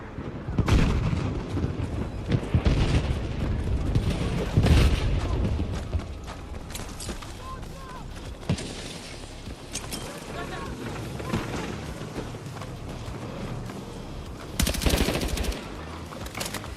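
Battlefield video game gunfire: dense bursts of automatic weapon fire and heavy booms throughout, loud and continuous with a big blast near the start and another late burst.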